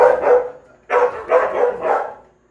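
A bluish-coated dog barks loudly and close in a short burst of several rough, throaty barks with brief pauses between them.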